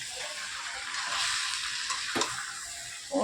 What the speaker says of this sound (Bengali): আমি একটুখানি নেড়ে দিই লেগে যাচ্ছে নাহলে এটা হচ্ছে খাসির মাংস